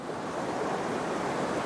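Ocean surf rolls in steadily at Ngeliep beach near Malang, a continuous broad wash of breaking waves with some wind across the microphone, no voices.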